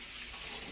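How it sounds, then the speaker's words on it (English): Hands wash under a running kitchen tap, a steady close hiss of flowing water splashing into a sink, with no voices. "let me just wash my hands"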